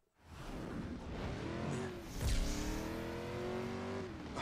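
A car engine in the video game Driver: San Francisco revs up hard with rising tonal harmonics, loud and sustained, with a sharp surge midway as it accelerates at full throttle.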